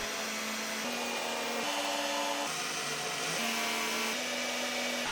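Drill boring pilot holes through thin wood strips for a crosscut sled, a steady whining motor hum that shifts pitch in several stages, continuous and close with no talking.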